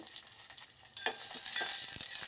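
Onion, green chilli and curry leaves frying in hot oil, a soft close sizzle that swells into a steady bright crackle with a few stirring scrapes.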